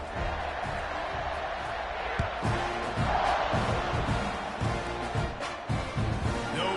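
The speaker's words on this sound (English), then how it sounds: "this crowd is buzzing after that last score." A crowd at a Texas A&M versus Florida college football game roars in a packed stadium ahead of a kickoff. The loud, continuous wash of cheering and whooping fills the whole stretch, with scattered shouts rising above it.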